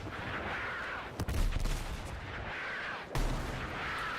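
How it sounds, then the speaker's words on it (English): Mortar explosions in the video game Battlefield 6: two heavy booming impacts about two seconds apart stand out over a steady layer of distant gunfire and battle rumble. "I hate these mortars, by the way."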